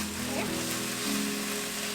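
Karam chutney with unrefined cane sugar sizzles softly in a pan on the stove, a faint, steady frying hiss under a low hum.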